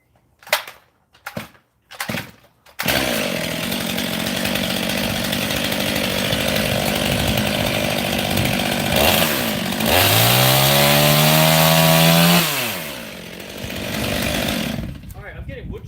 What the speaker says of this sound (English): I'm getting wood chips. So it tells me the chain's not sharp.